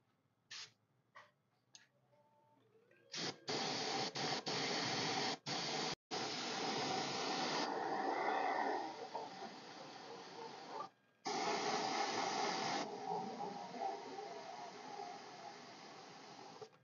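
An airbrush blasting machine spraying yellow and green paint onto a disposable cup: long, loud hissing bursts with short pauses between them, preceded by a few faint clicks.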